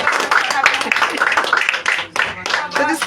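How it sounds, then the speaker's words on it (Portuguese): A church congregation claps loudly and energetically during a worship service, rapid sharp hand claps mixed with shouts and voices, close and full, briefly dipping before swelling again. "uma salva de palmas bem forte para Jesus"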